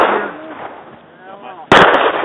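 Pistol shots ring out on a USPSA practical shooting stage outdoors. One sharp, loud report is followed by a long decaying echo, and a second shot cracks near the end.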